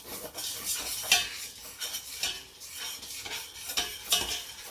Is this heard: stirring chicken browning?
yes